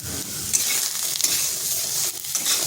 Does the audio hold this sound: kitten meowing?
no